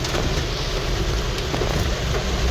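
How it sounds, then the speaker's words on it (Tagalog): Heavy rain from storm Basyang pours steadily over a Philippine city in a dense, continuous hiss, close and loud, with no voices over it. "Kusog yun ang ulan din, no?"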